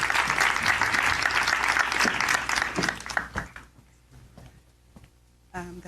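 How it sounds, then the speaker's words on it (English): An audience at a property networking event claps loudly in a dense burst for about three seconds, then the applause thins out and fades, and a voice speaks briefly at the end. "let's give him a huge round of applause"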